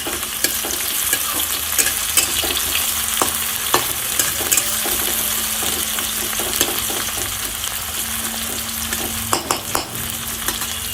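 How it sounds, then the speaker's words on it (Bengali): Onions frying in a pan, a steady dense sizzle with scattered sharp crackles and stirring scrapes throughout, close and fairly loud, with a faint low hum underneath and no talking. "পেঁয়াজগুলো দিয়ে আমি পেঁয়াজগুলো খুব ভালোভাবে ভেজে নেব"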